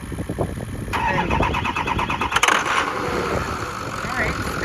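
A 2003 Ford F-350 with a 6.0L engine cranks with a rapid starter whir for about two seconds, then catches and settles into a steady close idle, with a voice speaking briefly near the start.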